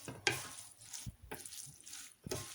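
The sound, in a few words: stirring food mixture with olive oil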